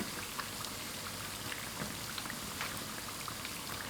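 Small flatbread dough rounds deep-frying in hot oil, a steady close crackle and fizz of fine bubbling with scattered sharper pops, continuous and even throughout with no talking.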